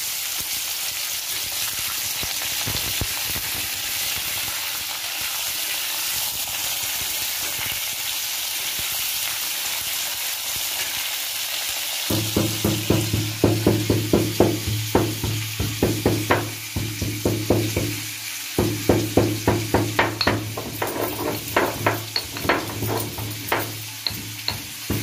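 Carrots and potatoes fry in a pan with a steady sizzle, then repeated stirring scrapes and clacks come in at a regular rhythm over the crackling oil, close up and with no one talking.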